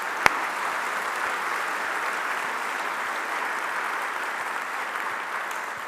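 Audience applause and cheering at a book festival event in Edinburgh, a dense, steady wash of clapping that holds loud and even for about six seconds without any talk.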